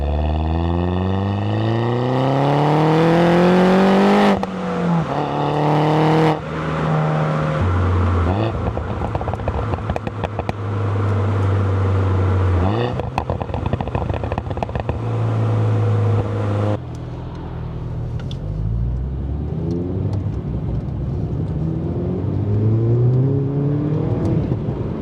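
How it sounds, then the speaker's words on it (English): Modified Mini Cooper S JCW R56 engine revving, the exhaust and induction note rising sharply through the gears with pitch climbing and dropping at each shift, loud and close with no talk. "It's not too asbo, but it gives an exciting exhaust note and induction noise now."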